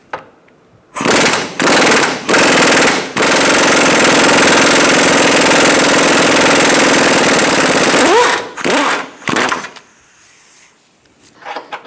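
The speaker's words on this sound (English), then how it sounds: "Now we're going to use an extension with a swivel 19 to get the bolt out completely" An impact wrench with a swivel 19 mm socket on an extension hammers out a Honda CR-V lower control arm bolt. Several short rattling bursts lead into a long, loud continuous run, followed by a few more short bursts.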